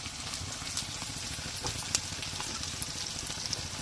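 Dried lote fish frying in oil with onions in a pan, a faint, steady low sizzle with soft crackles and occasional small pops throughout.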